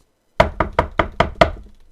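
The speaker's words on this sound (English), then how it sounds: "there was a sudden knock on his door" Knuckles rap on an office door: six crisp, evenly spaced knocks, close and loud, that start after a brief silence and leave no other sound behind them.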